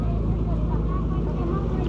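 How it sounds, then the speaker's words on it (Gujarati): The engine of a fishing boat heading out to sea off the coast near Shiyal Bet drones steadily and fairly loudly, mixed with broad rushing wind and water noise. "આ બોટ જઈ રહી છે એ ફિશિંગ કરવા માટે જઈ રહી છે"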